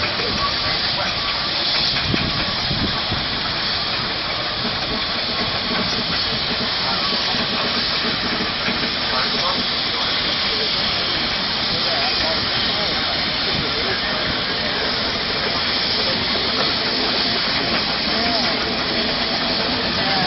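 Colossus, a steam traction engine with tandem compound cylinders, working at a steam fair: a loud continuous hiss and rumble of steam, dense and unbroken, with crowd noise mixed underneath.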